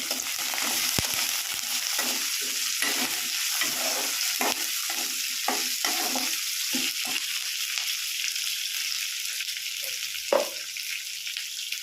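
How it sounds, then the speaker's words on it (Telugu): Onions, curry leaves and green chillies frying in a pan for pudina chutney, a steady close sizzle running throughout with occasional stirring scrapes and clicks, no voices. "ఆనియన్స్, కరివేపాకు, మిర్చి వేసుకొని కొద్దిగా ఫ్రై చేసుకోండి."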